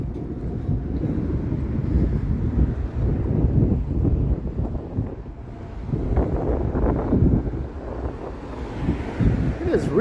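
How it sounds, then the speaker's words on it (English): Gusting wind buffets the microphone on a Toronto street in the late afternoon: rumbling, roaring bursts that rise and fall continuously, with a voice talking faintly underneath. "It is really windy, like the wind is just gusting here."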